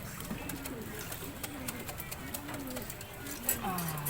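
Racing pigeons in a training box coo repeatedly in soft, rolling phrases, fairly quiet and close, over a low background hum with a few light rustles.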